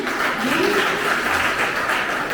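Dense, steady clapping from an audience in an auditorium at a poetry recitation event, continuous and fairly loud throughout the short stretch.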